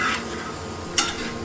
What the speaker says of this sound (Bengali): এখন সবাই ভাজাভুজি চলছে